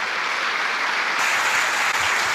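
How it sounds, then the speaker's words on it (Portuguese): A church congregation breaks into sustained applause for the Lord after a sermon, dense, steady clapping from many hands filling the room, loud and unbroken with no voices on top. "Você pode aplaudir o Senhor?"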